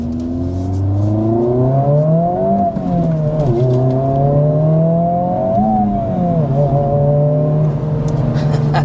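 Hyundai Elantra N and Honda Civic Type R on the road, engine loud and close throughout, revving up and down through rising pitch sweeps and gear changes with a steady deep drone underneath.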